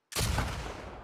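A single loud gunshot from the video game The Last of Us Part 2, with a sharp close crack followed by a decaying reverberant tail, alone without talk.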